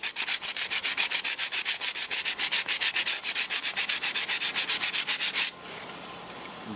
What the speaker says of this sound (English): I'm going to sand down high spots.